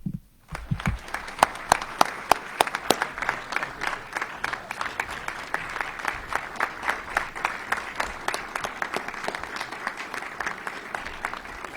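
Sustained applause from an audience welcoming the U.S. Deputy Secretary of Commerce at a Virginia investment announcement event in Chesapeake, steady and fairly loud with dense overlapping claps throughout.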